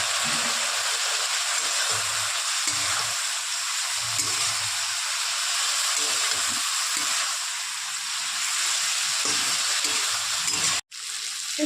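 Cumin and ginger paste fry in a pan for a spring onion dish, a dense, close sizzle with soft stirring scrapes, running steadily before cutting out briefly near the end, with no talking.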